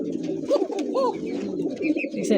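Koka pigeons coo close by in soft repeated throaty calls, steady and unbroken over the short stretch.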